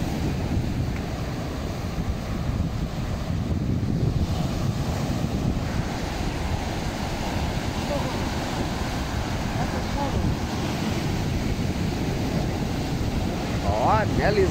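Wind buffets the microphone at a beach while surf washes in steadily underneath, a continuous rough roar with voices faintly in the mix.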